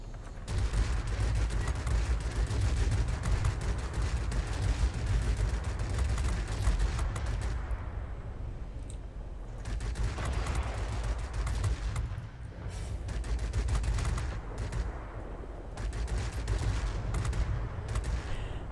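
Aircraft guns fire in long, rapid bursts in World of Warplanes, loud and continuous with brief pauses between volleys, over a steady engine drone with no talk.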